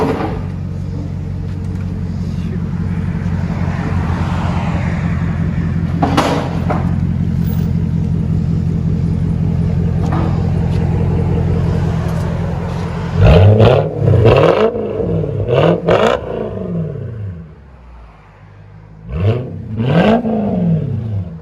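A Lexus SC 400 with a 4.0L V8 idles with a deep, steady exhaust rumble, then blips its throttle in several sharp, loud revs that rise and fall, with brief pauses between the later bursts.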